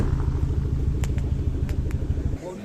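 A Mazda car engine idles while warming up, a steady close pulsing rumble that cuts off near the end, with faint ticks above it.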